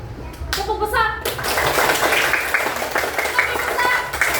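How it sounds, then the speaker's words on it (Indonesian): Children clap their hands together in large, loud claps, a dense burst of rhythmic clapping with a few voices at the start, close and busy throughout. "Bermain tepuk kecil dan tepuk besar."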